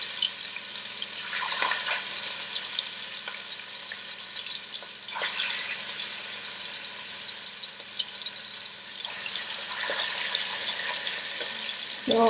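Chicken pieces going into a hot pot for brown stew chicken, a continuous watery sizzle with sharper bursts of crackle and splatter as pieces drop in, fairly close and without talk.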